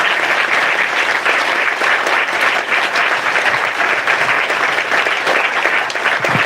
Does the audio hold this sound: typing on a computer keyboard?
no